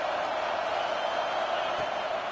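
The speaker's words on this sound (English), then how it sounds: "Decibels rising as the crowd gets behind this defense on third down." A roaring football stadium crowd at a Tennessee Volunteers game swells steadily on a third down, a dense wash of cheering that stays loud and unbroken throughout.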